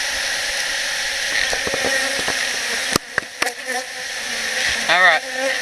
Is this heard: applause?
no